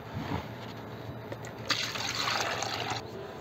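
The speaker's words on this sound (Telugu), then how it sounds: "దీన్ని మనం డైరెక్ట్గా మొక్కలకు పోసేద్దాం." Liquid plant fertilizer poured straight from a container onto potted flowering and vegetable plants, a close, steady trickling splash that swells into a fuller gush midway.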